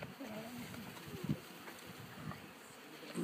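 Honeybees from a shaken package of roughly three pounds buzz at a hive installation, a soft continuous drone under nearby voices and handling noise.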